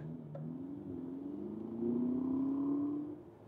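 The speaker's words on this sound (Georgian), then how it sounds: "ეხლავე დავდგები სწორ გზაზე, დავაჭერ აქსელერატორს და გავიგებთ ხმას" An Avatr 07 SUV's simulated engine sound rises as it accelerates, a smooth, steadily climbing hum that swells, holds and then fades slightly, heard clearly from inside the car with no talk.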